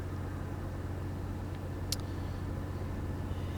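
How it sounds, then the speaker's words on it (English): Kenworth long-nose truck engine in American Truck Simulator, a steady low drone with faint broadband road noise, alone with no voices. "We are driving a Kenny. Kenny being a Kenworth, long nose."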